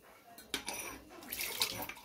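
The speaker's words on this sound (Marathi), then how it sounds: "त्यात थोडंसं पाणी घालून घेऊयात।" Water is poured into a pan of tomato gravy for paneer masala, making a couple of short, soft splashing and trickling bursts up close at low volume.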